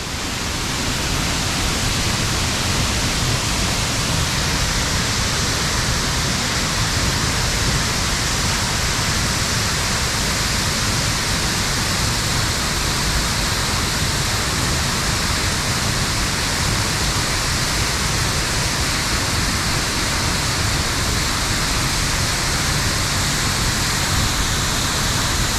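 Deer Creek Waterfall in the Grand Canyon roars loudly and steadily, a dense, unbroken wash of falling water close by that fills the whole stretch without a pause.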